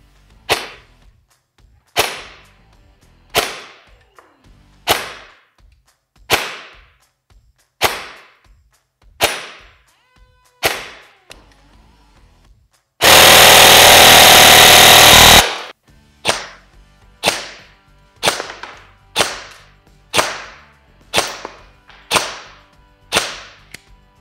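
Umbrella Armory airsoft replica guns fire 0.2 g Specna Arms Edge BBs on original batteries, snapping out sharp single shots at steady intervals, broken midway by a loud continuous full-auto burst of about two seconds.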